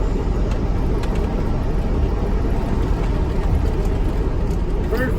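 Vintage GM PD4104 bus engine droning steadily while driving, a loud, dense low rumble heard through an open window with faint voices in the cabin.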